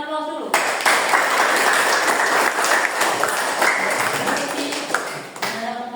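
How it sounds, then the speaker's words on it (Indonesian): An audience of students in a school classroom claps together in a loud, sustained burst of applause lasting several seconds, with a voice audible at the start and end. "Kita berikan aplaus dulu."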